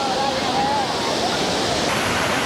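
Lakkam waterfall in Eravikulam National Park roars as a loud, continuous broadband rush of falling water, close and steady throughout, with a faint voice-like tone drifting briefly over it.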